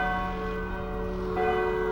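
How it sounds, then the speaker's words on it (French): Church bells ring at the church of Houtain-Saint-Siméon, a sustained, resonant peal with steady overlapping tones heard from outdoors. "voilà les cloches qui sonnent"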